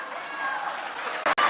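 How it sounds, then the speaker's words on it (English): Broadband crowd noise at an annual function, as a standing audience applauds community members, steady and moderately loud with a brief dropout near the end. "round of applause for all of them"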